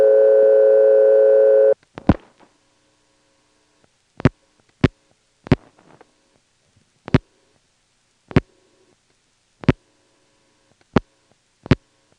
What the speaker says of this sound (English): You'll also hear the typical NX1 cut-through noise, that, as the call is progressing.